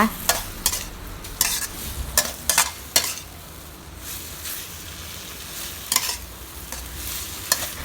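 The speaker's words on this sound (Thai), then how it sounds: "ใส่ขึ้นช่ายลงไป ค่ะแล้วก็ผัดต่อค่ะ" Celery tossed with canned fish in a hot pan: oil sizzles steadily while a spatula scrapes and clacks against the metal in quick irregular bursts, close up with no voices.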